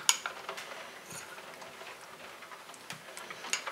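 A homemade face mask is stirred with half a tablespoon of lemon juice in a bowl, producing light, irregular clinks and taps of a spoon against the dish, close and soft, with no talking.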